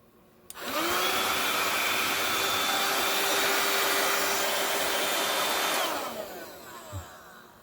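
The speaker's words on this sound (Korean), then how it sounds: "이런 식으로 되어져 있는 청소기가 있습니다" A small handheld vacuum cleaner used to clean an air-conditioner circuit board after soldering switches on abruptly, whines steadily at full power for about five seconds, then winds down with a falling hum, followed by a faint knock.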